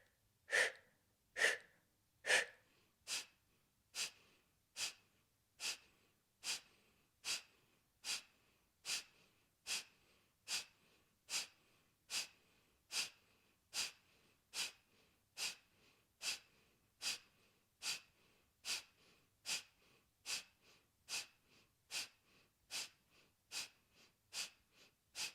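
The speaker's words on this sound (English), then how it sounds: "Or we'll do a second round of Kapalabhati." Kapalabhati yoga breathing, with a long even series of sharp, forceful nasal exhales about once a second, close and clear, with nearly thirty puffs, faint gasps between them, and no talk.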